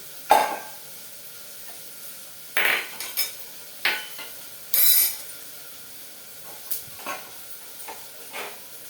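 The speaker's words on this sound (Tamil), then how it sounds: "தாளித்து கொட்டி இந்த கிண்ணத்தில் எடுத்துக்கலாம்." Spices tempered in hot oil for a Tamil vegetarian dish, tipped into a bowl: short bursts of sizzling mixed with clinks and scrapes of a spoon against metal, spaced out over quiet room tone, with no talking.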